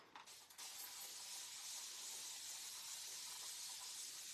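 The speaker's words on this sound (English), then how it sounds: "All right, let me just spray it." Spray bottle misting onto a flag stencil coated with paste, a few short spritzes at the start followed by a long continuous hiss, close and alone.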